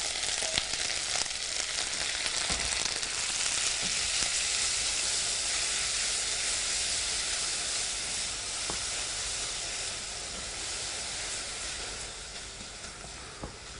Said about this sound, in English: So I'm going to pop the leeks into the pan.